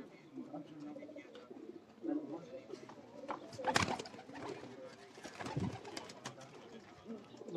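Pigeons coo softly among a flock kept by a breeder, with low murmuring calls, a few sharper bursts, and occasional voices in the background.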